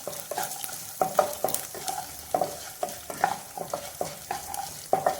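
Dried red chillies fry in sesame oil while a spoon stirs them in the pan, a close soft sizzle broken by repeated scraping and clinking strokes with no talk.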